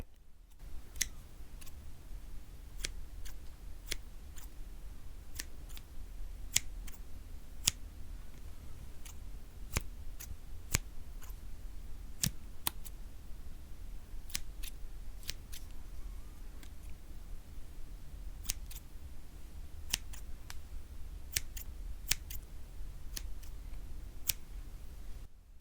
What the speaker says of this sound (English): if you can picture hairdressing scissors, these ones aren't particularly fancy